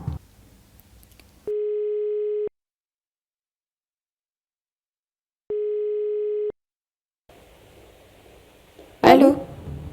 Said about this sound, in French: on va demander au régie d'appeler Nila Monti, s'il vous plaît, pour qu'elle puisse aider Tehzib